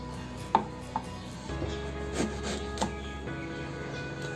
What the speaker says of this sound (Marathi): कापं करून घेऊया।